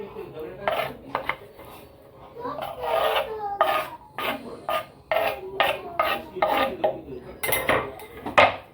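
A spoon stirs and scrapes chopped onion, cucumber and tomato for a Maharashtrian koshimbir salad in a bowl, making a run of quick, close, rasping clinks and scrapes in an uneven rhythm with no talk.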